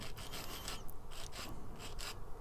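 Soft plastic part from a 1:144 Revell Sikorsky CH-53G helicopter model kit being filed, a quiet, close rasping of repeated short strokes with no talking.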